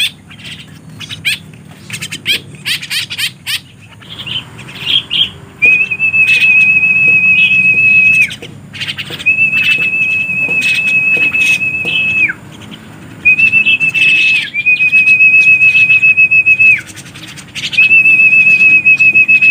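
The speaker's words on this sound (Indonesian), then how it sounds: "ini kawanan burung jala, kawanan baru" A flock of burung jala birds in the wild calls out with long, drawn-out whistles repeated every few seconds, loud and close, among scattered shorter chirps and some wing flutter.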